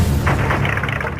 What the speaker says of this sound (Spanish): Sonaron 2 disparos de un Magnum 357.